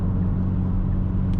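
A Hyundai i30N engine works steadily as the car climbs a slight uphill, heard as a continuous low rumble and whir from inside the cabin with no voices.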